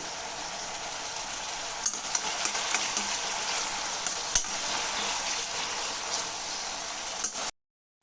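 Curry leaves crackle and fry in hot oil in a pan for a dry fish curry, a dense, steady sizzle with occasional pops and stirring scrapes that cuts off abruptly at the end.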